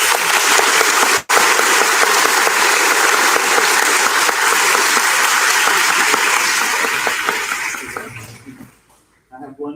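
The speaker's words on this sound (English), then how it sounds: "Would everybody please join me in recognizing their efforts with a round of applause?" A full crowd's loud, sustained round of applause at a fifth grade moving-up ceremony, dense and close for most of the stretch, then thinning and fading out toward the end before a voice resumes.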